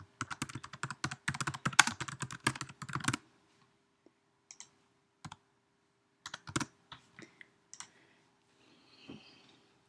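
Typing on a computer keyboard to enter a page title: a fast close burst of key clicks, then sparse scattered taps and clicks with silent gaps, no speech.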